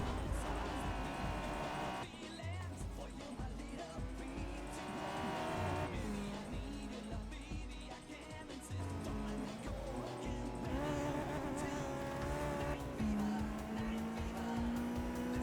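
Touge race cars, among them a Honda S2K, corner hard on a mountain road, engines revving and rising and falling in pitch, with bursts of tire squeal running on steadily throughout.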